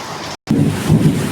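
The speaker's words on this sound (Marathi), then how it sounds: "बघा काय गडगडतंय" Thunder rumbles low during a heavy Konkan monsoon rainstorm, a brief deep roll that follows a split-second dropout, set against a bed of steady rain.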